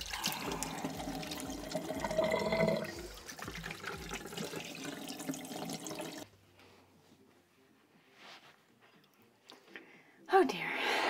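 Water runs from a tap at a bathroom sink while someone rinses skincare product off their face, a steady close splashing for about six seconds before it stops, followed by quiet handling sounds and a brief rustle.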